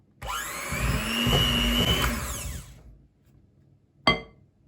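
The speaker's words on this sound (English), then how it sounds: "And then use my whisk again to whisk this up." An electric whisk whirs loudly for about two and a half seconds as eggs are beaten into a gluten-free carrot cake mixture, then it winds down and a single sharp knock follows after a short pause.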